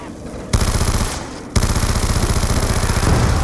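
An RPD machine gun in Black Ops 2 Zombies fires in long rapid automatic bursts, loud and close, with a brief drop in the firing around the one-second mark before the rattle resumes.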